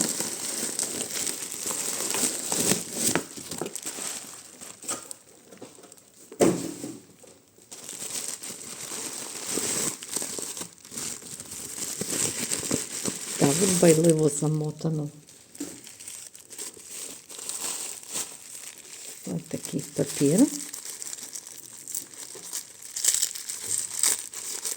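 A parcel of vintage jewelry being unpacked, with steady close crinkling and crumpling of wrapping paper and occasional tearing throughout. Someone speaks briefly over the paper noise.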